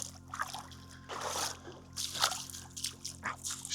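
River water trickling and sloshing around someone wading in shallows on a hot day, with gentle splashes rising and falling close by.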